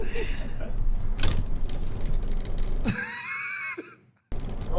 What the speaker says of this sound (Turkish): Tamam kapı açacak kapı açıldı bir şey yok.